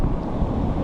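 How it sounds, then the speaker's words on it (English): Ocean surf rumbles around a small fishing kayak out on medium waves, a loud, low, continuous wash mixed with wind buffeting the microphone, with no speech during this short stretch. "the surf's absolutely cranking today"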